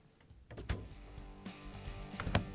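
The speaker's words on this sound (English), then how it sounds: "now when we're done, we can close the doors" Doors on a Samsung refrigerator are swung shut with a few soft thumps and rattles, followed by a firmer closing knock near the end, all close up in a quiet room.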